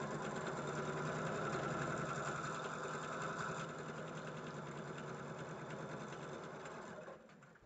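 A sewing machine stitches fabric with a fast, steady mechanical chatter that runs close and continuously before slowing and fading at the end.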